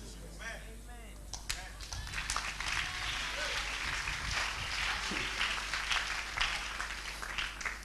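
Church congregation clapping during a sermon on prophecy and prayer, irregular, uneven claps and scattered hand strikes over a low hum, with voices heard through the noise.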